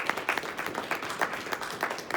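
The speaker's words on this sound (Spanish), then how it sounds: "Así es que ofrenda de aplausos al que vive y reina." Church congregation at Iglesia Oasis in Hesperia, California, clapping in a moderate, slightly rhythmic burst that sounds roomy and fairly soft, with no talking over it.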